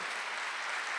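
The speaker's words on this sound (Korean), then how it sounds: "박수 좀 세게 쳐봐요" Loud, continuous applause from a church congregation at a Sunday worship service, a dense, steady wash of clapping with no break and no talk over it.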